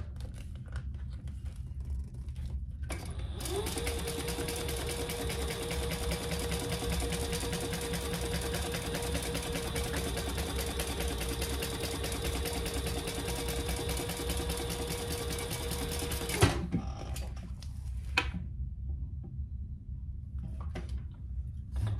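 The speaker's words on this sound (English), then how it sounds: "I'm gonna top stitch on the bottom." Sewing machine running steadily as it top stitches the bottom of a fabric toiletry cosmetic bag, a continuous close whirring motor for about fourteen seconds that stops abruptly, with quiet handling noise before and after.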